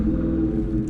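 A 2021 Dodge Charger 392 Scat Pack Widebody's V8 rumbles loud and close in a brief burst of deep, throaty engine noise.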